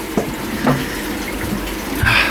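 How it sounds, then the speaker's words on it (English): Water rushes steadily after a valve is opened while a garden filter is being cleaned, a close continuous splashing flow with a few small knocks and gurgles. "Turn that off and let's open this valve."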